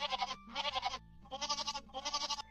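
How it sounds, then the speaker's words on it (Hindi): Two young goats bleat loudly in a rapid series of wavering, nasal cries, several calls following one another with short gaps between them. "और दोनों बच्चों ने जोर जोर से शोर मचाना शुरू कर दिया।"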